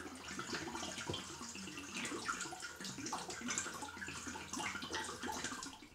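Water draining from an opened heated towel rail valve into a bowl, a steady close trickle and splash running continuously without pause.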